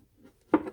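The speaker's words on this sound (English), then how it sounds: "I'm just going to take my scissors and I'm just going to poke a hole" Scissors poke through the bottom of a plastic container, giving one short, sharp crackling puncture followed by a brief scraping rustle, close and fairly quiet.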